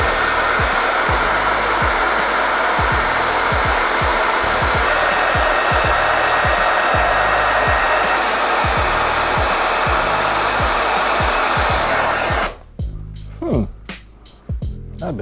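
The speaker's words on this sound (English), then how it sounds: "It's gonna take a while since this is a blower dryer, not a heat gun." Hair blow dryer running at close range to heat a landing net handle, a loud continuous whoosh for about twelve seconds before it cuts off, leaving brief rustling handling sounds.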